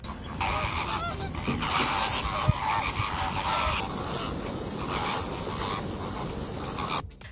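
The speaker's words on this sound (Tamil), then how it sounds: "ராஜஸ்தான் மாநிலம் ஜெய்ப்பூரில் உள்ள சாம்பார் ஏரியில் பிளமிங்கோ பறவைகளின் வருகை அதிகரித்துள்ளது" A large flock of flamingos calling at Sambhar Lake near Jaipur, Rajasthan, a dense continuous chorus of honking, goose-like cries, fairly close and loud, with no talking.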